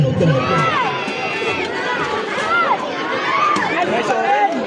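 A crowd of spectators at a neighborhood basketball game cheers and shouts loudly after a free throw, a continuous excited roar of overlapping voices with whistles and calls rising above it.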